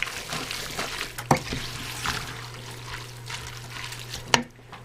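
Oil sizzles in a pot on a homestead stove as homemade pasta sauce begins, a steady frying crackle joined by stirring and a couple of sharp clinks against the pot.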